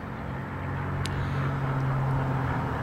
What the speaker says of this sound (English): I'd like to share with you a loud car going by.